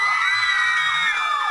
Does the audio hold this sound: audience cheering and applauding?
yes